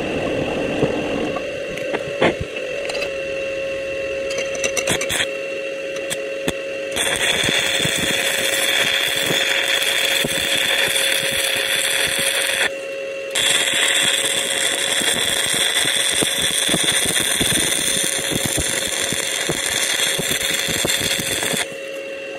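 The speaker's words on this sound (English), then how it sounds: "I'm going to weld that back on" Arc welding a broken-off leg back onto a wind turbine frame: a steady, loud crackling buzz runs nearly nonstop, broken by brief pauses where the arc stops and restarts, with an electrical hum underneath.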